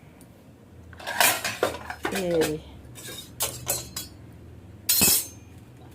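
A metal ladle clinks and scrapes against cooking pots in a home kitchen during rice preparation, giving several sharp, irregular metallic clatters, with someone speaking briefly between them.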